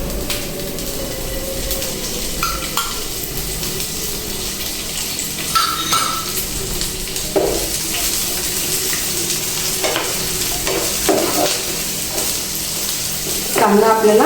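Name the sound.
onion frying in oil in a pan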